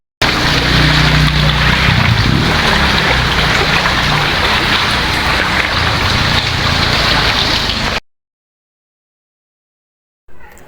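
Loud continuous churning and sloshing of deep floodwater being waded through during a typhoon, with a low rumble, steady for several seconds before cutting off abruptly into silence.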